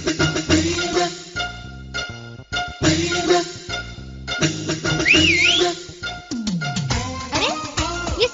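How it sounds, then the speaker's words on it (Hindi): A whistle rises and bends in a short wavy phrase, heard over a busy film soundtrack of music and effects. "अरे ये सीटी किसने बजाई?"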